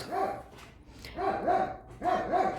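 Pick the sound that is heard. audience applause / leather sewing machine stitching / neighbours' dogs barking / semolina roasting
neighbours' dogs barking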